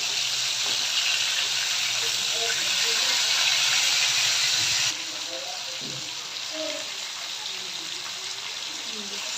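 Hilsa fish being fried in hot oil give a steady, loud broadband sizzle that drops somewhat in level about halfway through and keeps going, with faint clinks from the pan.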